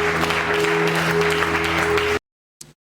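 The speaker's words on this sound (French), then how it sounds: "Acclamons la parole de Dieu." A church congregation bursts into loud, sustained applause that fills the room for about two seconds and then stops abruptly, followed by a short faint sound.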